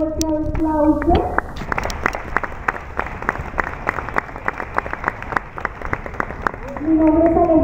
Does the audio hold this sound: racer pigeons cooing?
no